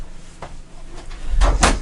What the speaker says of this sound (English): You'll have this little flap down door for freezer type items.